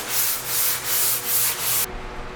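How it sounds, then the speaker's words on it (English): Steady back-and-forth hand sanding with the grain on a wood floor, light pressure, rhythmic rasping strokes about every half second, close and fairly loud, then stopping abruptly. "you want to sand with the grain and go over the entire surface lightly"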